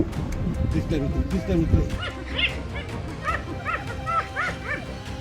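Whooping, rising calls and yips from several hyenas, overlapping and fairly close, with a leopard's low growling rumble underneath.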